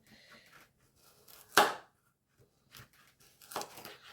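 A knife cuts a parsnip into fries, two sharp crunchy chops standing out from quieter scraping and handling sounds, close and with no talk.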